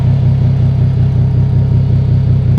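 A four-door Toyota Supra warms up at idle just after start-up, its engine putting out a steady, close, low pulsing rumble with a fine regular throb and no speech.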